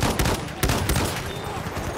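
Rapid gunfire crackles through a Battlefield 1 multiplayer match, a dense burst of close shots and automatic fire over about two seconds.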